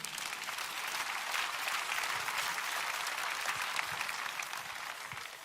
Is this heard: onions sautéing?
no